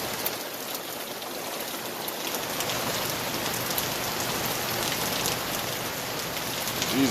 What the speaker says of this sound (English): It really started raining.